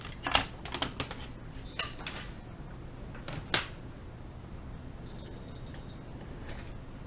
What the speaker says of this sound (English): All right. Let's get some keycaps on this.